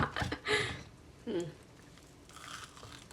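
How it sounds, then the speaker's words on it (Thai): Someone bites into fried dough sticks made from pizza dough, producing a few close, crisp crunches early on followed by quieter chewing. "จะมาชิม ปลาท่องโข ให้ดูนะคะนะ"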